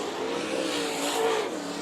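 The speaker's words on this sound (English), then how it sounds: "It's the last lap of this heat race, but Tim might be just hanging out" Race cars roar around the dirt oval at Bakersfield Speedway during a heat race, a steady distant engine drone with a brief rising whine as a car passes.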